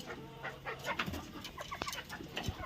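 Native country chickens in a poultry shed cluck softly and scattered, with short irregular calls and small scuffling noises at moderate distance and low volume.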